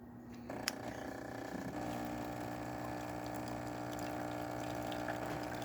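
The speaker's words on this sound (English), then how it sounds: "Then it will brew a second time for the double shot." A Jura automatic coffee machine brewing a double shot: a steady loud pump drone with a constant hum and a faint trickle of liquid, starting just after a brief click and running continuously.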